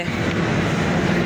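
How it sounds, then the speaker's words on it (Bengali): Rolling rumble of a Howrah–Lal Kuan Weekly Superfast train pulling out of Burdwan station, a steady close, continuous rail noise with no talk. "বর্ধমান থেকে আমাদের ট্রেন ছাড়লো এই মুহূর্তে"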